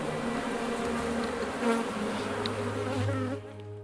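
Bees buzzing busily at the hive, a dense, continuous close-up hum of many insects with individual wingbeats rising and fading before the sound cuts off.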